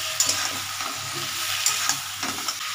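Pumpkin and other vegetables fry in hot oil in a home kitchen, a soft continuous sizzle broken by a few sharp stirring clatters of a spatula against the pan.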